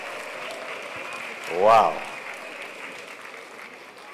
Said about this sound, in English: One more time, a resounding round of applause.